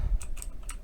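Several light keystrokes clatter on a computer keyboard, a few quick taps close by with no talking.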